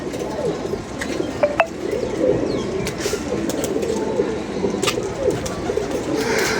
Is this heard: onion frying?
no